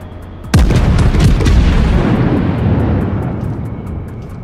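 Heavy explosions and gunfire in the World of Warships naval battle game, with battleships and torpedoes in play: a sudden loud boom followed by a long rumbling wash of blasts and scattered sharp shots, no talk.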